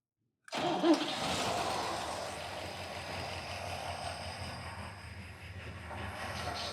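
A drag car engine fires up by remote start after silence, catching abruptly with a loud roar that settles into a steady, rumbling idle, close and alone.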